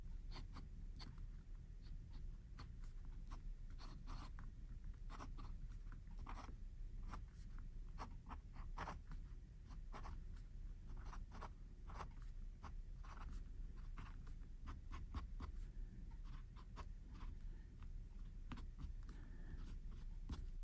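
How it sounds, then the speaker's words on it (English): Sheaffer Intensity fountain pen nib writing on smooth Rhodia paper, a close, steady stream of soft scratchy strokes and taps with no voices. "As you can hear, perfectly smooth on this Rhodia paper, and I have no real scratchiness or anything like that at all."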